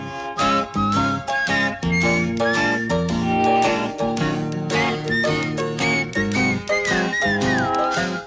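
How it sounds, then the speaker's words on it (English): A melodic whistled line rides over a full band in a recorded song, bright sliding notes weaving between guitar and rhythm chords throughout. "The whistling"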